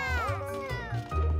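A cartoon cat meows in a series of drawn-out, rising and falling mews across the moment, loud and close, with music or voice tones underneath.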